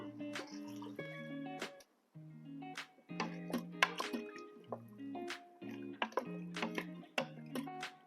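Coconut milk pours into an Instant Pot holding sweet potatoes, with close, gurgling glugs and splashes that rise and fall in uneven bursts.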